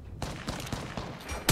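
Rapid gunfire rattles in the Apex Legends video game as a continuous burst of sharp, closely spaced shots lasting under two seconds, with one louder crack at the end.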